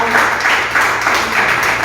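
A congregation at a church service applauds loudly, a brief, even rush of many hands clapping together.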